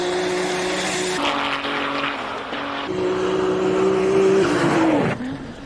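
A Formula One car races uphill at the Simola Hillclimb in South Africa, its very loud, high-pitched engine howling close by and rising in pitch for several seconds before cutting away sharply.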